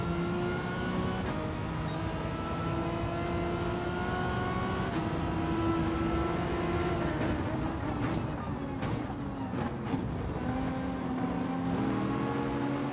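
A race car in Gran Turismo 7 holds a steady high engine drone that drops in pitch under braking and then revs back up through gear changes, with no talk over it.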